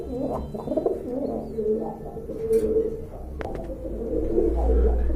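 Low, soft cooing from a large pigeon repeats in gentle rolling phrases over a steady background hum, with a brief click partway through.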